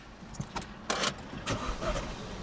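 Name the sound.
Astra VXR car engine starting with bonnet raised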